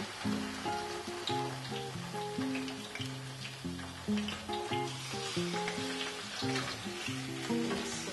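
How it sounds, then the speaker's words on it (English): Stuffed squid pan-fries with a soft, steady sizzle beneath a louder melodic tune that carries on throughout. "we're ready to just lightly golden pan fry this just until it's golden"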